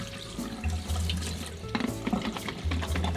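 Tap water runs steadily into a sink to rinse film after coffee-based Caffenol developing, a continuous close splashing wash with a few louder surges and gurgles, no talking.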